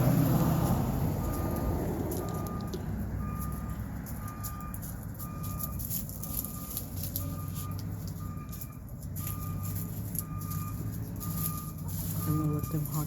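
A garbage truck's reversing alarm beeps in a steady repeating pulse over the low rumble of the idling engine, outdoors and fairly close.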